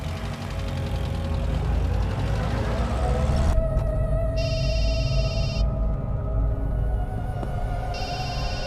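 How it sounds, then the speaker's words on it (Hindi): A telephone rings in an office, a bright electronic ring in repeating bursts over a steady low engine-like rumble, with no one speaking. "किसका फोन है"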